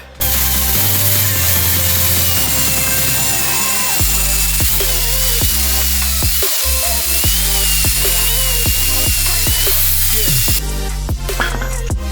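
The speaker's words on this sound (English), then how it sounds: "I'm just going to try and turn it off on the lathe" Woodturning lathe cutting into a block of LEGO, with a loud, rough grinding and chattering of the tool against the spinning plastic, irregular catches and scraping, close up and continuous.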